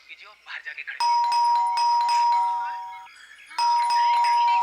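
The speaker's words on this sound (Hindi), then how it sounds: "तो तुम बजाओ घंटी" A doorbell at a house door rings twice in a sustained electronic tone, loud and close, with a pause between rings, after a few brief spoken words.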